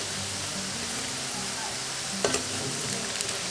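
Food for a Congolese gratiné frying in a pan until golden, a steady even sizzle throughout with a few brief clinks of a utensil near the end, close up and with no talking.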